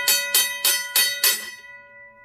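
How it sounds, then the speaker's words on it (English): A RACO mechanical railroad crossing bell, its hammer striking the gong five times in a steady rhythm, each ring bright and metallic, close and loud, with the last stroke fading into a lingering hum. "it will push this, and it will move the hammer to hit the gong"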